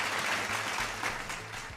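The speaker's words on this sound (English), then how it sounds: "Clap for yourself." Quiz teams at a state grand final clap for themselves, a short burst of dense, fairly faint applause from a room of people.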